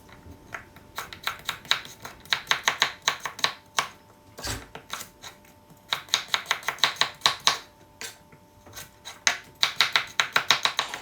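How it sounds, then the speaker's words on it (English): A knife chops carrots on a cutting board in quick bursts of sharp, close taps, pausing briefly between runs, with no talking. "all I did was I topped and tailed the carrot"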